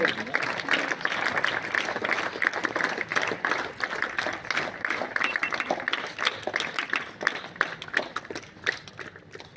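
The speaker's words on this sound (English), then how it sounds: "Yes, clap loudly." Sustained clapping from the audience at a Navodaya school alumni batch celebration, a busy, fairly loud round of applause running throughout with faint voices mixed underneath.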